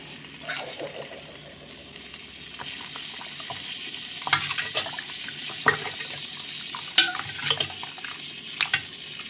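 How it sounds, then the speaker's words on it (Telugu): A pot of chicken curry is stirred by hand, with soft scraping and sloshing against a low background hiss and several sharper clinks and knocks of the spoon on the pot rim, close and moderately quiet. "ఒక్కసారి మనం కలిపేసేసుకుందాం"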